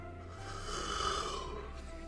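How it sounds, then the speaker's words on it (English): A single drawn-out yawn from a tired man, a soft breathy swell that rises and fades over about two seconds, faint and alone. "Sorry for the yawning."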